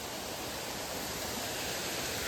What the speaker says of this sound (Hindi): एक छोटा सा वाटरफॉल है, शायद कह सकते हैं इसको वाटरफॉल।